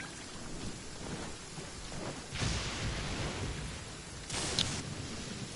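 Steady rain pours during a thunderstorm in the video game Genshin Impact, with two rolling thunder crashes breaking through the constant hiss of falling water.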